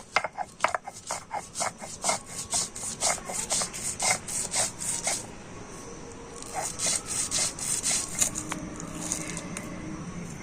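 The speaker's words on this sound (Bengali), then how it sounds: "তো সমস্ত কিছু আমি একসাথেই বেটে নিচ্ছি" Chickpea lentils, mustard seeds and cashews being ground together into a paste, heard as a steady run of rough, rhythmic rubbing and grating strokes close by, with a brief pause partway through before the grinding resumes.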